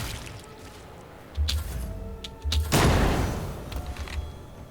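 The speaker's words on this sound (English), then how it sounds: "Nice explosion." Explosion in the video game Warhammer 40k Rogue Trader, a loud broadband blast that swells after a couple of low thumps and decays slowly over a rumbling game soundscape.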